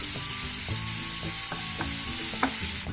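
Sliced onions fry for chicken chukka, sizzling steadily and loudly in hot oil in a pan, with occasional scrapes and clinks of a spoon stirring them throughout; no one speaks.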